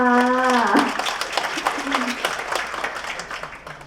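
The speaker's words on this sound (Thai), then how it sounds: "ขอเสียงปรบมือดังๆด้วยค่ะ" Wedding guests at an engagement ceremony in a hotel clap together after a voice finishes speaking; scattered, moderately loud clapping continues for a few seconds with some voices mixed in.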